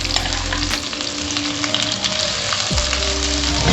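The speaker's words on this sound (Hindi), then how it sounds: "अब तेल गर्म हो चुका है। हम इसमें शिमला मिर्च को फ्राई करेंगे" Capsicum frying in hot oil in a pan for Chinese fried rice, a dense continuous close sizzle and crackle with a low hum underneath and no talking.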